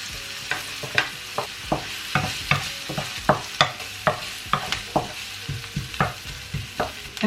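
Garlic and onions frying in oil in a pan for beef chao fan, a soft sizzle under repeated sharp scraping and tapping strokes of a spatula in a steady stirring rhythm, close and clear without talk.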